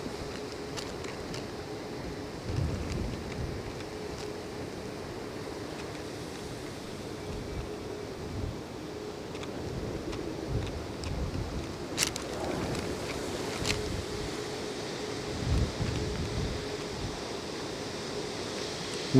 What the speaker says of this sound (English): Wind has just died down a bit. And now it's back on, as you can probably hear on mic.